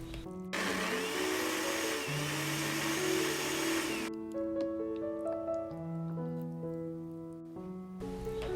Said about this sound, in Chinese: 放入料理机里， 加水搅成紫薯泥蓉